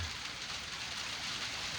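Hail falls steadily outdoors by an off-grid cabin under construction, a dense, even hiss of many small impacts with no voices.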